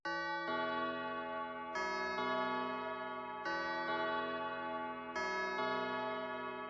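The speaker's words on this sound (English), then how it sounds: "I added this preset called Big Bells, kind of like a big detuned kind of church bell sounding thing" A Big Bells synth preset with a detuned, church-bell-like tone rings out a repeating pattern of sustained, overlapping bell chords, each new strike arriving about every second and a half.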